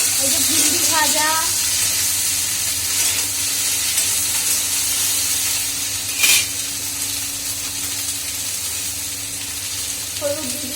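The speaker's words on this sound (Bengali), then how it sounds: "এই যে ভিন্ডি ভাজা" Okra frying in a pan gives a steady close sizzle with light stirring and a brief sharp clatter midway, while a voice briefly speaks near the start and end.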